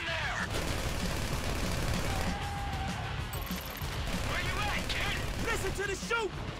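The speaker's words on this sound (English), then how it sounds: "You hear that gunfire?" Bursts of gunfire and explosions rumble continuously through a noisy battle scene in Grand Theft Auto 5, with voices shouting and talking over the din.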